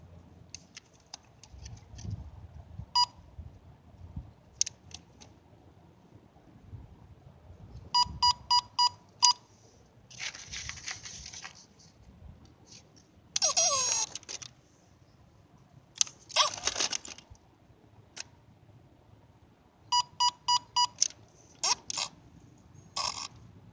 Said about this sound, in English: Press and hold mode button and head sensor for 3 seconds until you hear 4 beeps.